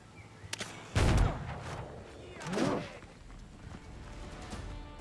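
A grenadier enemy in the video game Windrose lobs grenades, and a sharp, loud blast punches through near the start, followed by a second, duller burst, with a low rumble lingering between them.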